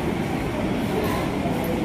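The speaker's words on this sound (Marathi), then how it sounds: "इथून रेल्वे चाललेली आहे बघा," A train rumbles past near the Mumbra Devi temple in Thane, a loud, continuous, close roar of rail noise that fills the whole moment.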